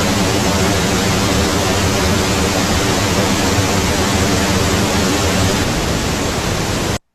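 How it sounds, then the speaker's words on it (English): Pink noise test signal run through a chorus unit with about 10 milliseconds of delay and light modulation, a loud, unbroken broadband hiss lasting about seven seconds before cutting off abruptly. "So pink noise, and then we're going to add the chorus to it"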